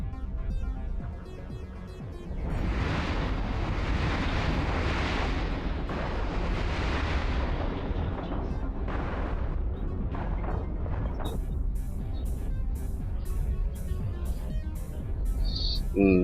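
Weapons fire and explosions in a space video game roar as a dense, continuous rumble of blasts, then a run of evenly spaced sharp shots close by.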